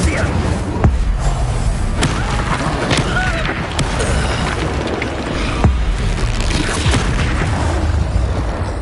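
A fire spell cast in the Hogwarts Legacy video game, with booming, crackling bursts amid continuous battle noise and a voice heard over the action.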